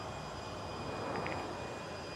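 An underground water leak beneath a driveway, picked up through a ground leak-detection microphone: a steady, dense, jet-engine-like roar of rushing hiss that holds constant throughout with no talking.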